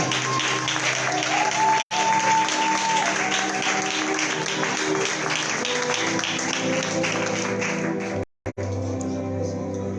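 A church congregation at a conference service applauds and cheers in loud, sustained clapping. A music bed runs underneath, and the sound briefly cuts out twice.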